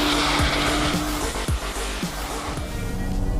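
Peugeot 308 Racing Cup car sliding sideways on a race circuit, a loud engine roar with rising and falling revs over a sustained tyre scrub, heard up close.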